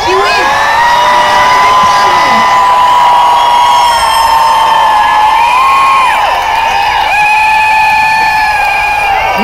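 A crowd at Bucharest Pride cheers and whoops at full volume for several seconds, with high-pitched shouts and whistles layered over a dense, continuous roar, close and loud throughout.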